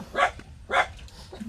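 A dog barks twice in quick succession, close and fairly loud, with a softer third yip trailing at the end.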